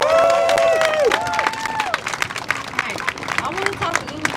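A crowd at a street protest on Chicago's Dan Ryan Expressway claps and cheers, with whoops and shouted voices rising over scattered clapping, loud and nearby at first and then thinning out.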